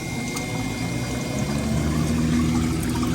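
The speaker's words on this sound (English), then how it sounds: "Pump is still working this whole time." A Scotsman Prodigy C0530MA ice machine's water pump runs mid freeze cycle, giving a steady, close hum with water flowing and splashing continuously underneath, no voices.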